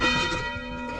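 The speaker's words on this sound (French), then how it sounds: "On a les cloches de l'église." Church bells ring out in a French village street, a sustained bright metallic chime with rich lingering overtones, loud and fairly close, no talking.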